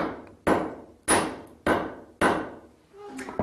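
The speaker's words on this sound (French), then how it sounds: "Et c'est avec ce vieux marteau-là que l'on va l'affiner." An old hammer strikes a metal rod drawn from an ingot to refine it, giving four loud, close, ringing blows at a steady, unhurried pace, each followed by a short decay.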